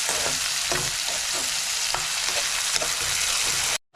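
Chopped onion frying in a pan for a wild mushroom curry, a steady loud sizzle broken by repeated scraping stirs, ending in a sudden brief cutoff.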